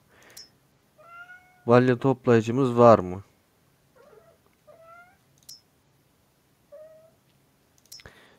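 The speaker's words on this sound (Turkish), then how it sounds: "Kedi de bu aralar beni rahatsız ediyor. Belki sesi geliyordur size de." A house cat meows several times, a few short faint mews around a loud drawn-out cry, while someone talks near a computer during a farming simulator game session.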